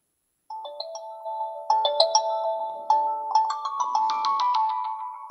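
LG Stylo 5 phone playing a bright, melodic ringtone through its bottom-firing speaker, a sequence of clear chiming notes starting after a brief silence and building steadily in level.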